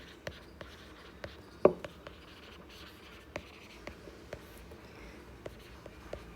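Pen writing by hand on paper, a series of faint, sparse taps and short strokes with one sharper tick, close and quiet with no talking.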